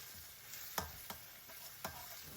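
Prawns stirred in a hot pan with garlic and ginger paste, a low steady sizzle under a few sharp spatula scrapes and knocks, close and fairly quiet, with no voices.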